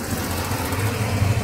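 Road traffic at office hours near Baner in Pune, a continuous low engine rumble of passing and idling vehicles, fairly steady with slight swells, no talk.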